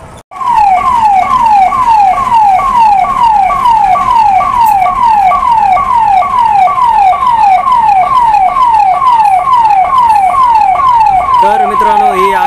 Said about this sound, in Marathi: ही अग्निशमन दलाची गाडी आली बघा आता आगीजवाला. आणि भरपूर पोलीसवाले, ॲम्ब्युलन्स, भरपूर गाड्या या ठिकाणी आलेल्या बघा.